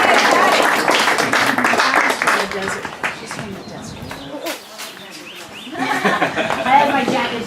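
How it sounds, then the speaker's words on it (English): An audience at a 2018 memorial gathering claps as someone comes forward, the applause mixing with voices and fading before clapping and chatter rise again. "give a round of applause for Patty"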